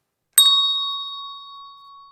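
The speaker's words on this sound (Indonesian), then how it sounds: "jangan lupa bunyikan notifikasi loncengnya" A single bright notification bell ding strikes once and rings out with a clear sustained tone that slowly fades over about two seconds.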